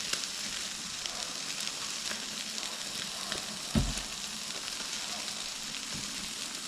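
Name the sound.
steaks frying on an antique Primus stove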